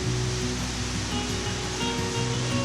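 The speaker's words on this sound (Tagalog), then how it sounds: "Yung naririnig nyo ay tunog ng tubig, ng falls, at saka agos ng tubig." Water pours and flows constantly at Anyap Falls near a campsite in Tanay, Rizal: a steady, dense rushing hiss with a low undertone, close and unbroken throughout.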